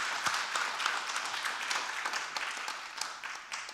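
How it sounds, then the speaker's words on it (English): Audience applause for Trish Riley at an event on the Travelling Community and Irish culture, a moderate continuous patter of many hands with scattered sharper claps, lasting nearly four seconds without speech. "Trish, give her another round of applause, please."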